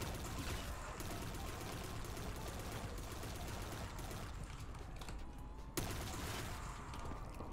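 Rapid gunfire from a Call of Duty Black Ops 3 custom zombies map, a dense, steady stream of shots with mechanical clatter, fairly quiet and continuous, with one sharp burst near the end.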